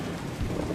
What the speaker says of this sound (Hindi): लगता है बाहर बहुत तेज बारिश हो रही है।